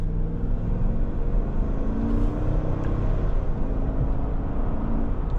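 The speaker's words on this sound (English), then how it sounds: "that engine has such a nice sound to it" A 2025 Chevrolet Tahoe Z71 SUV engine drones steadily while driving, a continuous low rumble with road noise and no talking.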